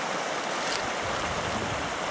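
The Holly River flows beside a park entrance between hills, a constant, fairly loud rushing wash of water that stays even from start to finish.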